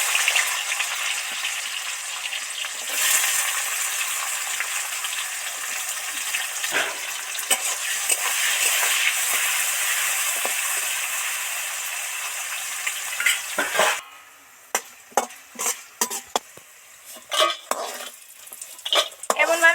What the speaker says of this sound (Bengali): তেল তো গরম হয়ে গেছে এবার উচ্ছেগুলো তেলের মধ্যে দিয়ে দেবো